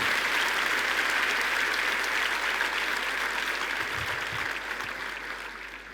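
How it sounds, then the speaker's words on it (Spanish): A church congregation applauds in a steady, even roar of many hands that holds for about six seconds and fades slightly at the end. "¿Cuánto le dan un aplauso a Jesucristo,"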